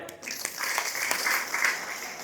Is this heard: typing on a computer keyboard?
no